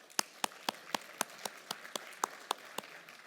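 Sparse, fairly quiet clapping at an economy conference, a single pair of hands striking in a steady beat about four times a second over faint room tone.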